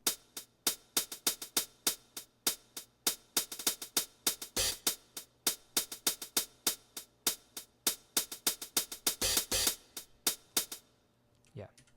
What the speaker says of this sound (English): And now we have a hi-hat.